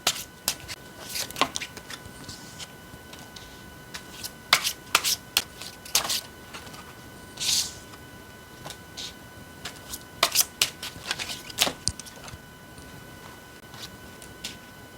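Tarot cards are shuffled and handled at close range, producing repeated light riffling slaps and soft papery flicks in irregular bursts against a quiet background.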